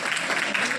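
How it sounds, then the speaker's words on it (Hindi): Audience clapping at a school Republic Day program on 26 January, a dense, steady wash of applause filling the whole short moment without pause. "बजाओ ताली।"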